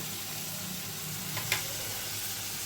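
Cumin and coriander powder sizzle in a pan with a splash of water, making an even, moderately loud frying hiss with one brief sharp tap partway through and no talking.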